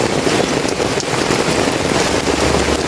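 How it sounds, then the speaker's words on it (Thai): Heavy rain pours down steadily in a rainforest, a dense, loud hiss of countless drops striking leaves and ground with no letup. "นี่ถ้าฝนตกอย่างเงี้ย"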